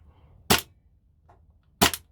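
Two sharp, loud shots from an airsoft AAP-01 pistol fired with its hammer fixed, spaced about a second apart, with a faint click between them and no talking.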